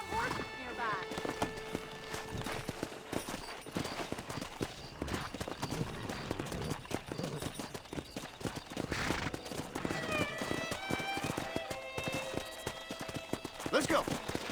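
Horse hooves clip-clopping in Red Dead Redemption while riding out to break in wild horses, a steady rhythmic trot with neighs and characters talking over it.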